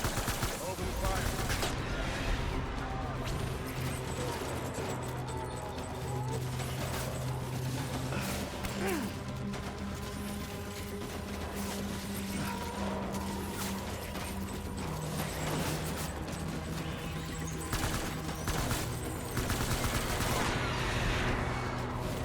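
Gunfire in a video game, steady bursts and rapid volleys of shots against a busy background of music and effects, with voices speaking over parts of it.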